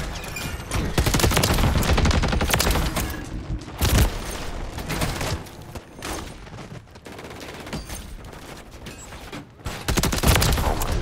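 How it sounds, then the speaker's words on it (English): Rapid shotgun blasts and dense gunfire from a video game, loud and continuous with several booming peaks and mechanical clatter. "Shotgun."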